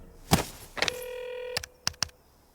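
A telephone being dialed in a Hindi comedy film: a sharp click, a held electronic tone, then a couple of quick beeping key presses, all close and clear over quiet room noise.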